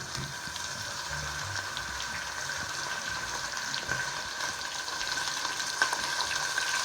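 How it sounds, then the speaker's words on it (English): Tap water runs steadily in a kitchen for hand washing while cooking pasta with meat sauce, a continuous even hiss of moderate loudness with a few small clinks near the end. "I'm going to wash my hands"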